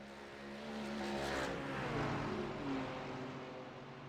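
Race car on a sighting lap at the Nurburgring in a racing video game, a fairly faint engine drone rising and falling slightly in pitch, steady and without talk.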